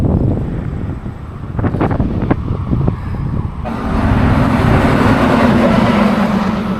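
Strong wind buffets the microphone in a loud, rumbling roar while a cyclist rides a prairie highway in Saskatchewan, Canada. Passing traffic whooshes by, and the gusts grow heavier toward the end.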